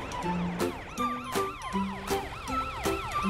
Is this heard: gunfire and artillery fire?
no